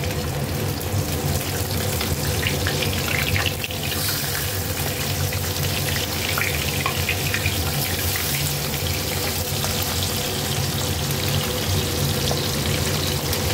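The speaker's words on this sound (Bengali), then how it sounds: "এবার আমি মাছটা ভেজে নেব" Rohu fish fries in hot oil in a wok, a dense, steady crackling sizzle that is loud and continuous throughout, with no talk.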